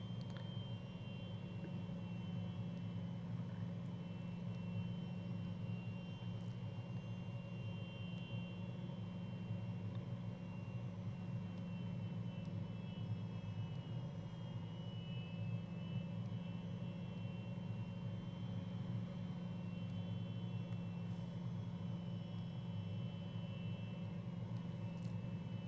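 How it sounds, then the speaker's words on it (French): A Fouga Magister jet on the runway at Holloman in a flight simulator, with a steady droning engine hum and a thin high whine holding at a constant level throughout, no speech. "je vais pouvoir m'aligner et décoller directement de l'intersection là"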